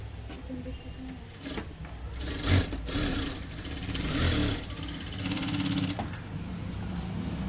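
A sewing machine runs in steady, close whirring bursts while stitching tucks on a blouse, the motor rising and easing between runs.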